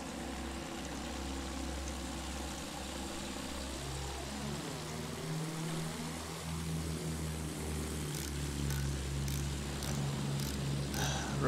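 Enemy propeller biplane engine droning loudly throughout a Battlefield 1 battle, a steady rumble with a pitch sweep as it passes overhead, with faint gunfire clicks near the end.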